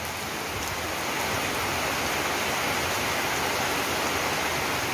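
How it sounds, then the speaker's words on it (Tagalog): Steady, dense rain pours down continuously in front of a shop, a loud broadband hiss with no breaks and no voices. "palakas ng palakas yung ulan."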